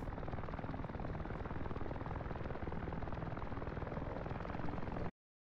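A helicopter in the DCS flight combat game just after a missile strike knocks its tail off, heard as a steady, dense roaring rumble of rotor and engine noise, close and loud throughout before cutting off abruptly.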